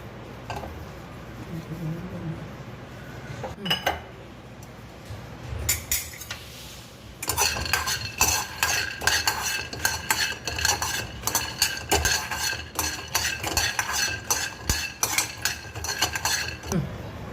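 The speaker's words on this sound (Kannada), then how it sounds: "ಶೇಂಗಾ ಆಮೇಲೆ ಎಳ್ಳು ಈ ಪದಾರ್ಥ ಇಷ್ಟು ಡ್ರೈ ರೋಸ್ಟ್ ಮಾಡ್ಕೋಬೇಕು" Peanuts and sesame seeds dry roasting in a pan, a ladle scraping and clinking against the metal in quick, steady strokes that grow busier midway, close and fairly quiet.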